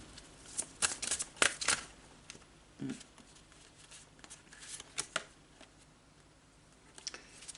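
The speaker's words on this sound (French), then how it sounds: "Je le bats jusqu'à ce qu'une carte se manifeste d'elle-même." A tarot deck is shuffled by hand in quick riffling bursts and flicks with short pauses between them, close and quiet.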